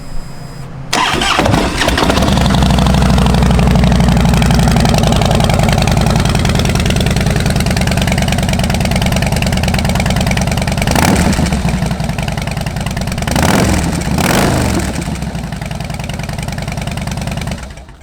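A 2008 Harley-Davidson Softail Custom with a 96 cubic inch V-twin and 6-speed fires up almost instantly and settles into a loud, steady lumpy idle nearby, with two brief throttle blips near the end.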